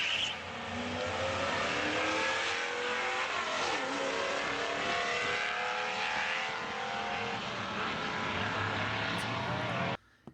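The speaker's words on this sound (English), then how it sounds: "Watch the whole car go sideways" A car accelerates hard down a drag race track, its loud, steady engine roar rising in pitch and holding for about ten seconds before cutting off abruptly.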